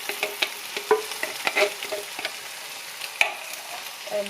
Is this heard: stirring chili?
yes